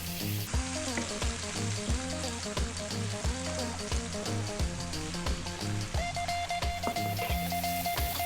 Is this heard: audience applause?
no